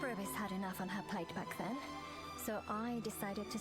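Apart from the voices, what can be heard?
No everyday noises stand out.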